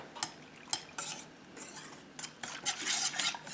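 Malt powder being stirred into a mixture for instant oat gochujang, a spoon scraping and clinking against the bowl in several short bursts, close and fairly quiet, with no talking.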